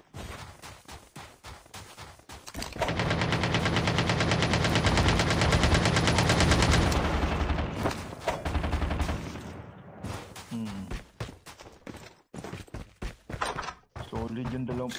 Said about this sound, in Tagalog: Solid yung dalawang putok na yun.